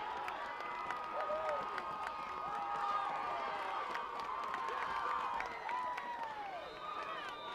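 Crowd at a high school football game between the TigerHawks and New Hampton cheering and shouting in the distance, a sustained roar with whoops and whistles beneath faint commentary.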